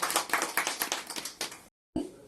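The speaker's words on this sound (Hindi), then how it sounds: "तो प्लीज एक जोरदार ताली" Clapping from an audience at a women's award ceremony in Chandigarh, a short burst of fairly close hand claps that cuts off abruptly, then resumes faintly.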